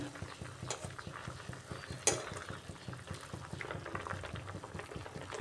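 Bitter gourd cooking in boiling water in a home kitchen, a steady bubbling, simmering texture with light clinks and stirring throughout, plus one sharp knock near the middle.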